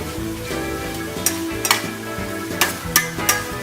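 Sausage, potatoes and peppers sizzle steadily in a pan, with several sharp scraping clicks as a utensil flips and stirs them, close and moderately loud.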